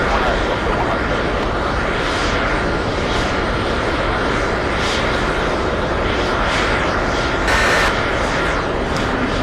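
Airliner engines at JFK airport rumbling steadily and loudly throughout, a broad continuous roar with a brief hiss near the end, heard from a spotting position with no talk.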